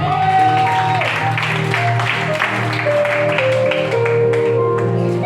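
A church congregation claps and cheers for Jesus in a loud, continuous wave of applause, with sustained organ or keyboard tones ringing underneath.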